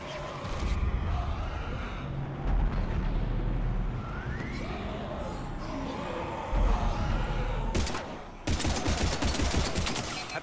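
Rapid automatic gunfire and bursts of shots in the Mass Effect 3 video game, continuous and loud across the scene, mixed with game effects and shouted voices.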